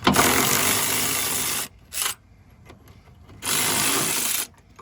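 A Dodge Dakota's upper control arm nuts being loosened with a ratchet-style power tool, two long loud whirring bursts separated by a short burst and quiet gaps, fairly close.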